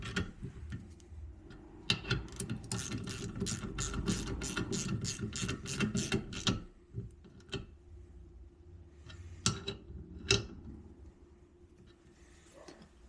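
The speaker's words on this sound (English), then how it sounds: "Tighten our two bolts down." A hand ratchet clicks in a fast, even run while tightening two bolts on a 1000hp LS engine build, then slows to a few separate clicks, close and fairly quiet.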